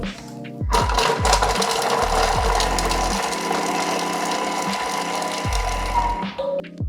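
A Thermomix mincing garlic at speed 5 gives a loud, close mechanical whirring and grinding that runs for about five seconds after a brief start, then stops.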